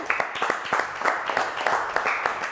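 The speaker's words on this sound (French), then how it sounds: "on applaudit Also" A television studio audience claps in a brief, steady patter with a regular rhythm, moderately loud and close.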